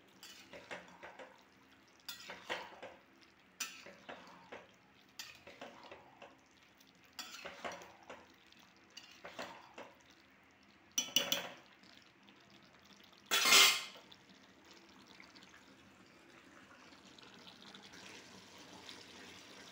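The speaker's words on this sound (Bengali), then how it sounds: "ভালো করে মশলা দিয়ে সবজিটাকে সাঁতলাবো।" Vegetables sauté in a pan with cumin powder and spices. Soft, intermittent stirring scrapes over a faint sizzle are followed by one sharp, loud metallic clink near the end, with a quiet hiss after it. There is no talk.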